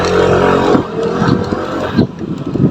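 A scooter fitted with an upgraded CVT pulls away from about 10 to 20 km/h, its engine droning loud and close with a steady rising whine, then easing off briefly before picking up again.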